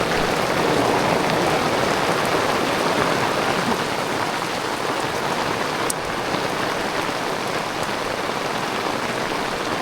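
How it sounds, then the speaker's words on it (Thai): Steady rain pours down at a house-building site where old post footings are being replaced, a dense, even hiss of drops hitting surfaces that carries on without pause. "ฝนตก"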